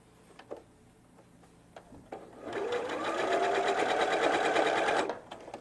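A sewing machine stitches fabric in one steady run of about two and a half seconds, a close, rapid mechanical whir that starts after a few light handling clicks and stops abruptly.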